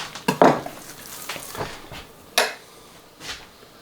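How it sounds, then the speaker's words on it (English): A fillet knife slices a deer back strap into uniform steaks for biltong on a table, giving a few close, sharp scrapes and clicks as the blade meets the surface, with quieter strokes between. "just run my fillet knife right along this, and we'll end up with some really nice uniform steaks"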